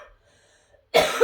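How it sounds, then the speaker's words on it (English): Faint background hum, then a single sharp, close cough bursts out near the end. "Do excuse my cough."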